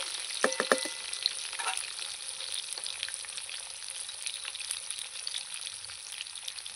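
Potatoes fry in a pan and are stirred, giving a steady close sizzle with a few scraping, clattering stir strokes near the start, alone without talk.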